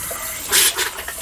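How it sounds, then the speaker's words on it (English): An RV faucet sputters after the fresh water pump is switched on, spitting out a brief burst of water and air in short irregular gushes that rise and fade within a second. "go up to all your faucets and open them up. They're just gonna kind of spit out for a little bit"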